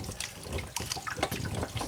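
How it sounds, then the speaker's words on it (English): Water rushing steadily through a supply line feeding a water heater, a continuous close hiss and gurgle with no talking. "you can hear water coming down here"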